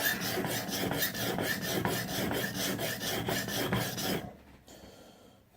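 A knife blade scraped in steady, rhythmic strokes across a sharpening stone, about a dozen close rasping passes that stop abruptly near the end, leaving faint quiet.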